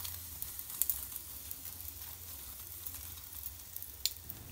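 Gobhi paratha frying in oil on a flat pan gives a faint, steady crackle with a couple of brief louder pops, close by and with no voices.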